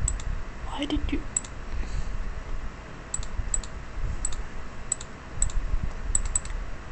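Keyboard typing and mouse clicks rattle in quick bursts while playing Minecraft, close and moderately loud, with sparse sharp clicks spread across the stretch.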